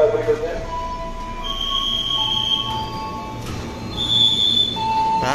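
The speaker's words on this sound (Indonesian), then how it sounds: "Nah, ada KRL masuk dulu." A KRL commuter electric train pulls into a station, with a steady rumbling roar, sustained high metallic wheel squeals and tonal whines rising and fading over several seconds.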